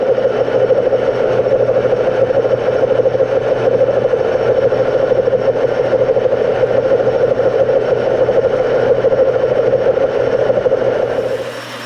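Lathe running while turning a screwdriver handle, a steady close mechanical motor whir that holds constant before winding down at the very end.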